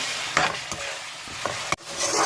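Green masala paste hits frying chicken in a handi and is stirred through, making a soft sizzle with a few scraping utensil strokes and one sharp clack near the end.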